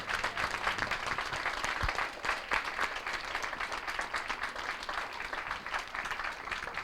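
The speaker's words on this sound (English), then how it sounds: "I ask you to give yourselves a round of applause." Audience at a youth legacy debate applauds steadily throughout, a dense, sustained wash of many hands clapping at even loudness with no speech.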